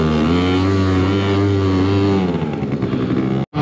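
A 2-stroke scooter engine revs hard while riding, a loud buzzy tone that holds steady, then wavers and drops, cutting out briefly near the end before picking up again.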